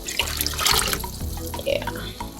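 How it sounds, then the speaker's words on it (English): Meat stock pours into a pot of cassava leaf stew, a steady splashing liquid stream running close and fairly loud for a couple of seconds. "so we'll go ahead and add our meat stock"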